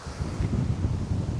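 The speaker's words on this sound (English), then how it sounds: "Oh, we got some beautiful wind today." Wind blowing outdoors during a low-impact outdoor workout, a close gusty rumble buffeting the microphone in uneven surges, with no voices.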